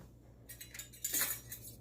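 Metal lid set onto a glass canning jar of diced tomatoes, a few light clinks and a brief scrape of metal on glass, close and fairly quiet, with no talking.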